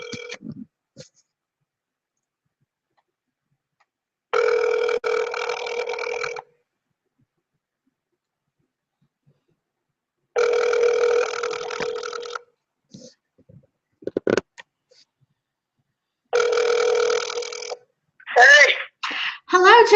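An outgoing telephone call rings back in three repeated tone bursts about two seconds long, separated by silent gaps, with brief vocal sounds between them and a voice answering at the end.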